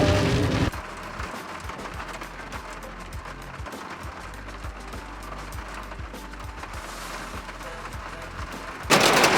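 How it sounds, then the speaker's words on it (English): Hail drums on the roof of a parked van in a sudden thunderstorm, a dense continuous pattering with sharp individual impacts, loud and close throughout, rising in intensity near the end. "It's hailing!"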